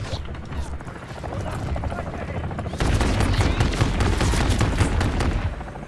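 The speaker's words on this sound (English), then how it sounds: "The top helo is still over there." A helicopter in Call of Duty: Modern Warfare III drones steadily under dense, loud bursts of automatic gunfire that grow heavier halfway through, with a radio-style voice talking over the mix.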